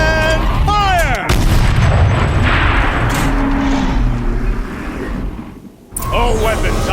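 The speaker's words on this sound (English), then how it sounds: "Rotate turret! And fire!" A machine's tank-like turret fires in Horizon Zero Dawn: a heavy, booming shot lands early and another heavy impact follows near the end, both loud and close, with voices speaking before and after.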